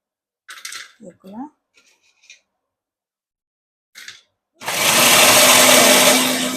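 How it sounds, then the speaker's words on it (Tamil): A kitchen mixer grinder grinds ingredients for Poondi laddu, starting abruptly after a few short bursts of talk and running loud and steady with a whirring motor hum to the end. "இதை மிக்சியில் போட்டு அரைக்க போகிறோம்"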